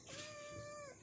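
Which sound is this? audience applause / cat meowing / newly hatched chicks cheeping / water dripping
cat meowing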